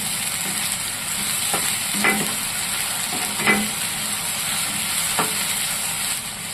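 Ginger garlic paste sizzles and fries steadily in hot oil, with a few soft stirring scrapes at intervals; no voices.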